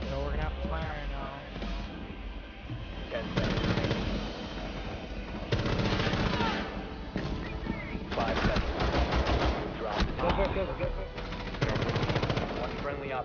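Rapid bursts of gunfire from the video game Rainbow Six Siege, loud and dense, with repeated volleys across the stretch and people talking over the shooting.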